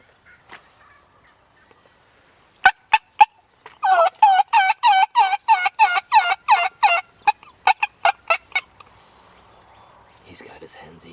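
Wild turkey gobbling during a spring hunt in Wisconsin: a rapid string of loud, rattling gobbles with sharp clucks before and after, fairly close, and faint whispered talk nearby.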